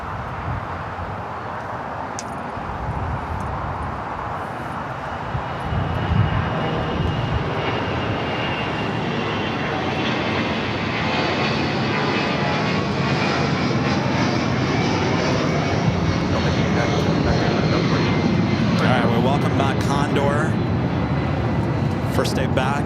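A sports charter jet in green striped livery takes off on runway 25 left at LAX, its engines building to a loud, sustained roar that holds steady as the aircraft rolls down the runway.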